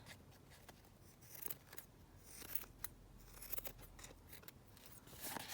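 Scissors trim fabric close around lace while making belly bands from scraps, producing a run of faint, quick snipping clicks up close in a quiet room, with no voices.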